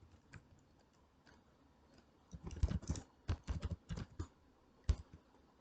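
Computer keyboard typing while code is written, quiet at first, then a burst of quick irregular key clicks and taps, close and fairly soft, with no voice.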